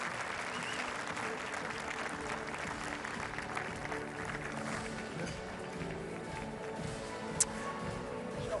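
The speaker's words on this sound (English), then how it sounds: "Ladies and gentlemen, please, a round of applause for Iker Casillas, Robert Lewandowski, and C" A seated audience at an award ceremony claps steadily and fairly quietly for several seconds, with one sharp clap standing out near the end.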